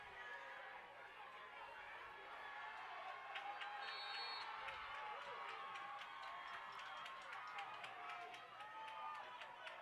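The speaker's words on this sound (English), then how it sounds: "Hurricane crowd getting a little into it here, making some noise." A high school football crowd at a Friday night game sends up a broad, steady roar of chatter and cheering from the stands, with faint rhythmic clapping and whoops throughout.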